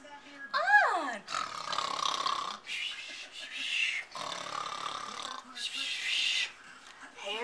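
A reader's voice imitates a bear snoring in its den, giving a run of long, rasping, rumbling snores that repeat in steady waves, close and fairly loud.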